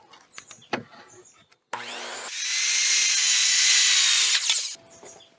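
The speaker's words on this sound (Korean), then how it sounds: "다른 원형톱 하나로" Circular saw cutting timber for a Korean hanok well-style wooden floor: a loud, close, steady high whine for about two and a half seconds, preceded by a brief spin-up and followed by the blade winding down, with light workshop clatter around it.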